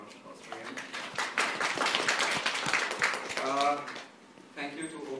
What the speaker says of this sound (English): Can you please have a round of applause for him?